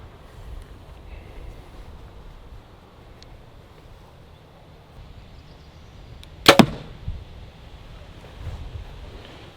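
A Grizzly Stick broadhead arrow strikes an elk shoulder blade set in ballistics gel, giving one sharp, loud impact crack with a brief follow-up thud over faint outdoor wind.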